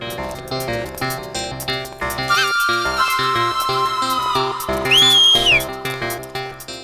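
A person whistles at someone in a busy scene, sliding and warbling tones rising over a dense rhythmic musical backing, fairly loud and close, with no talking.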